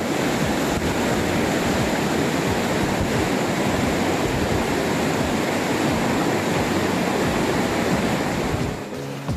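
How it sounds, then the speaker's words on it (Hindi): A river flows beside a mountain trekking track, a dense, steady rush of water that fills the whole clip without pause, loud and close, with no voices heard. "ट्रैक पर मुसलसल दरिया की आवाज आपके साथ रहती है।"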